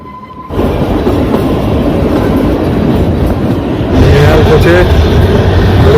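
Kalka to Shimla toy train running on a narrow mountain line, a loud steady rumble of wheels on track close by, brief squealing later, with voices talking under it.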